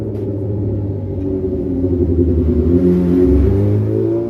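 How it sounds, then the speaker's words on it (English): Engines rumble and rev at a distance, a low droning growl that rises and swells, like motorcycles rolling past outside. "Sounds like we got motorcycles rolling around out there"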